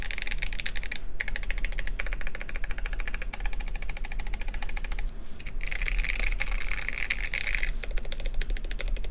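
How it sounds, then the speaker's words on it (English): Mechanical keyboard keys are typed in rapid irregular clatter, some presses hitting hard and bottoming out with sharper clacks, close and continuous over a low background hum. "if you hit it kind of hard, you can kind of hear things bottoming out a little"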